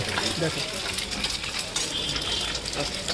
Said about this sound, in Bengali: গরম তেলের মধ্যে ডিম ছেড়ে দিচ্ছে দেখতে পাচ্ছ